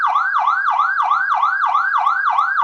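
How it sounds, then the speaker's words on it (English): A Powercall UDX7 electronic emergency siren runs its yelp tone: loud, rapid rising sweeps repeating about three times a second, heard alone and close. "Then you have your yelp tone."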